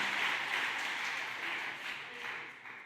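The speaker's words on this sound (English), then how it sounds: "Worth a round of applause." Faint, steady applause from a live audience at Sixth and I in Washington, D.C., a soft wash of many hands clapping that thins slightly toward the end.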